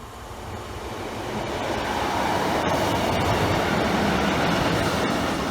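Train passing Saxilby level crossing on the Doncaster via Gainsborough Lea Road line, a broad rushing rumble that swells over the first couple of seconds and stays loud and steady, with faint rhythmic clicks.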